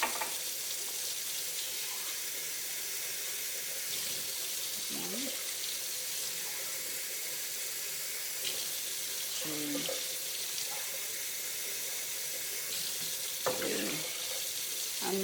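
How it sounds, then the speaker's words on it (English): Water pours from a tap into a saucepan of rice in a home kitchen, a steady moderate rush with a few brief gurgles and clinks, heard alone without talk. "I'm going to add my water."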